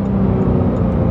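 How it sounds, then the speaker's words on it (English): A Porsche 911 GT3 in Martini livery gives off a loud, close engine rumble, a dense, continuous throaty roar lasting about a second without any voices. "listen to those downshifts"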